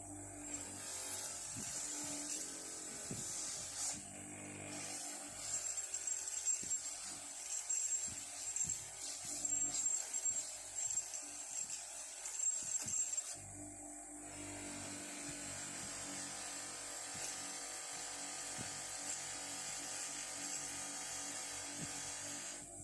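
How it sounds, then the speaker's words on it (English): A power tool's non-woven abrasive wheel whirs and grinds against a rusty screwdriver's metal, rising and falling in pressure for several seconds before easing back to a steady hum. "we're going to move on to the non-woven wheels"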